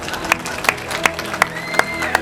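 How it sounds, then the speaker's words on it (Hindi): Audience applause at a live Urdu-Punjabi poetry recital, a short burst of claps with sharp louder hand strikes recurring roughly every third of a second over a low crowd murmur. "इनके लिए बहुत सी तालियां"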